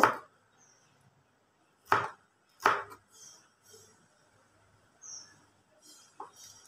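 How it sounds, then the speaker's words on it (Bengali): Banana flower is finely chopped with a knife on a board, several sharp, close chops spaced apart with quiet gaps between them and faint chirps in the background. "মিহি মিহি করে কেটে নেব। আমরা এভাবে সবগুলো মোচা কেটে নেব।"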